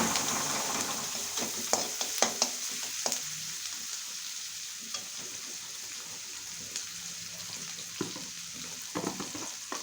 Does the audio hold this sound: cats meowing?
no